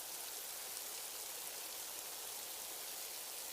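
Steady, even rain hisses across a deserted cartoon market, a constant close wash of falling drops with no voices or other sounds breaking through.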